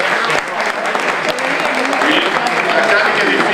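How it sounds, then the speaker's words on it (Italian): Dinner crowd at a Parma club social dinner clapping steadily and loudly, a continuous dense round of applause throughout. "un applauso"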